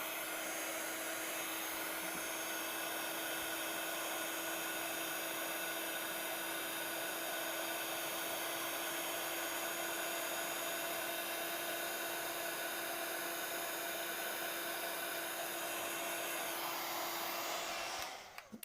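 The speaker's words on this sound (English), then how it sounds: "we'll use our heat tool and we will heat this up" A craft heat tool blows hot air over embossing powder on a card in a steady, even whoosh with a constant motor whine. It runs uninterrupted at moderate level for most of the clip before cutting off near the end, with no voices.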